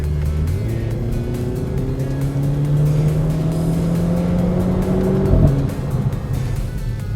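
A 2016 Renault Clio 220 Trophy in full race mode, its engine and exhaust droning loud and close with steadily rising revs, then a sharp shift and a fresh climb.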